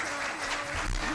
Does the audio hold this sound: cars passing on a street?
no